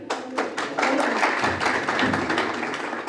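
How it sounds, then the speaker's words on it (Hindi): Audience in a college hall at a startup event applauds for Arun: a steady, fairly loud wash of clapping with a few sharper taps at the start. "अरुण के लिए तालियां दी।"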